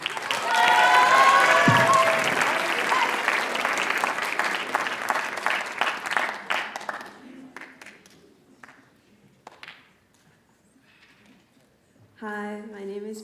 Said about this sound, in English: Please give a big round of applause to Maddie.